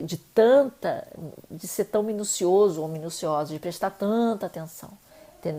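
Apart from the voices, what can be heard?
No distinct noise like a dog, phone or traffic.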